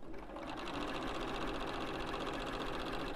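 A sewing machine stitching stiff quilt fabric pieces together, a steady fast mechanical whir with rapid even needle beats, fairly quiet and close, running continuously with no talk.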